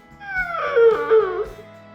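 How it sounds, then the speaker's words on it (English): A garage shop dog, kept around a custom car workshop, lets out one drawn-out whining howl that rises and then slides lower, close and fairly loud, lasting about a second and a half with no talk over it. "Ian, where's your dog?"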